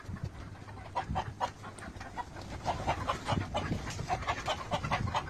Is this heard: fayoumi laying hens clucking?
yes